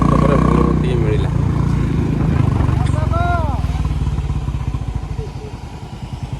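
A motorcycle, likely a Bullet, approaching and rolling past on a road at close range, its engine a loud throbbing rumble that fades slightly, with voices chattering over it.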